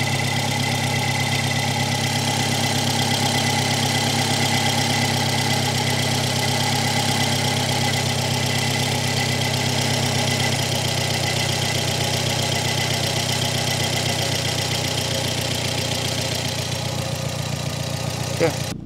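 A Peugeot 405 carburettor petrol engine idles steadily around 850 to 900 rpm during carburettor adjustment, a constant even hum with faint regular knocking, close and loud throughout.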